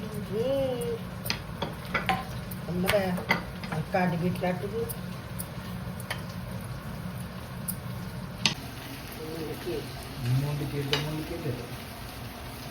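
Fish fries in oil on a tawa, Konkani style, a soft steady sizzle under a woman's speech, with occasional clinks and scraping of a utensil against the pan.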